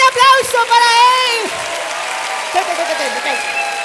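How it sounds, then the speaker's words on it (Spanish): A studio audience claps and cheers on a comedy talk show, loud at first and then fading under lively voices and a tonal, music-like sound. "¡Fuerte aplauso para él!"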